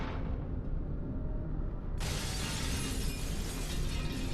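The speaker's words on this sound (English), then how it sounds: "They hit the glass shattering" Glass panels shattering in the video game Star Wars: The Force Unleashed make a dense, continuous crashing roar that turns suddenly brighter and harsher halfway through and holds steady and loud.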